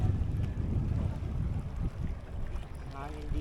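Steady wind rushing across an open microphone, a low continuous roar with faint movement underneath, loud and close throughout.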